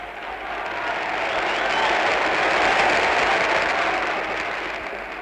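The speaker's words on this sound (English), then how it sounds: "Now if they'd only applaud like that all time." Theatre audience applauding a curtain call, a dense, sustained wash of clapping that swells to a peak midway and eases slightly toward the end, filling the hall on its own.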